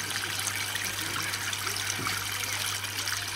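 A small garden brook trickles steadily beside a pool, a continuous close-up babble of flowing water with a constant low hum underneath.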